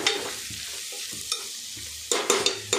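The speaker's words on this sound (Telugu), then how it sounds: "మనం మధ్యలో మధ్యలో కలుపుతూ ఉండాలి" A utensil stirs vegetable green rice in a pan, giving a soft sizzle broken by scraping, with a burst of louder stirring clatter near the end.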